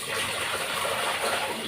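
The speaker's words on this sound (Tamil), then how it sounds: "நல்லா தண்ணி ஊற்றி" Water pours and splashes steadily over raw fish being washed in a bowl for a fish kulambu. The gushing is loud, close and continuous, with no talking.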